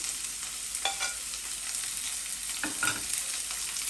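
Onion, green chilli and curry leaves are stirred in a hot pan of oil with mustard seeds and fried dal for rava upma, making a continuous sizzle with a few scraping stir strokes, close and moderately loud, without speech.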